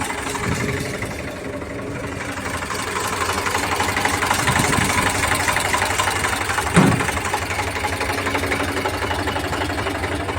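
An Eicher 368 tractor engine idles steadily nearby, a low rumbling chug with a faint knocking rhythm and one brief clunk partway through.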